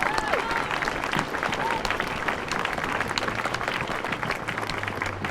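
A large rally crowd applauds steadily and loudly throughout, with a few cheers and shouts mixed into the dense clapping.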